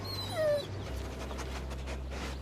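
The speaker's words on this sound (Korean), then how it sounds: "그때 소녀에게 다가온 댕댕이 한 마리." A small dog in a film scene, The Secret Garden, gives one high, falling whimper close by, then only quiet room tone remains.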